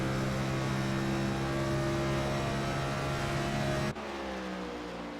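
A race car engine drones steadily at high revs from onboard at Auto Club Speedway, a smooth sustained whine that drops abruptly in pitch near the end as it shifts.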